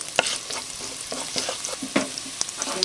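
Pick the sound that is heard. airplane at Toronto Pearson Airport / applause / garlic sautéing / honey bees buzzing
garlic sautéing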